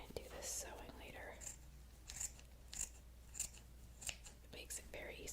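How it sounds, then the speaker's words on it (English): Scissors snip through fabric in a series of crisp, evenly spaced cuts, close and soft, with whispered speech woven between them. "I'm just gonna cut the material so when I do this sewing later"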